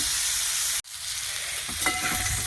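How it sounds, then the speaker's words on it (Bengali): Flat beans sizzle steadily in a hot frying pan, a loud, even crackle that cuts out for an instant before resuming with a few brighter pops and stirring sounds. "আমার শিমটা ভাজা হয়ে গেছে ভালো করে"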